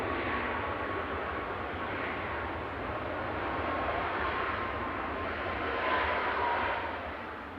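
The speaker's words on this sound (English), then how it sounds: "Ryanair flight 3089 from Gothenburg there, max 8200, EIGX" A Ryanair Boeing 737 MAX 8200, registration EI-GX, from Gothenburg at Manchester Airport, producing a steady broad jet roar with a faint whine that swells slightly near the end and stays continuous throughout.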